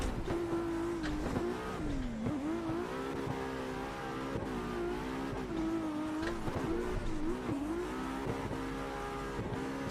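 A car drifting in a racing video game, engine droning and wavering steadily as revs rise and dip, with tire noise underneath, continuous throughout.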